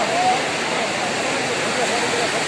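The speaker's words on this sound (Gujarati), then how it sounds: "જો કેટલો અવાજ કરે છે ગંગા નદી" Loud, continuous roar of the rushing Ganges River near Gangotri in the Himalayas, steady and close, filling the whole stretch without pause.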